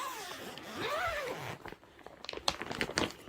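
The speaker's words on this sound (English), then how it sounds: "Just unwrapping this" Wool comforter being unwrapped from its packaging: close, soft crinkling and rustling of wrapping with a few sharper crackles toward the end, fairly quiet, no talk.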